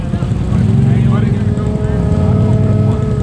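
A Toyota 4Runner with a snorkel revs hard while fording water, its engine a loud, close, sustained drone with audible gear changes, and voices shout over it.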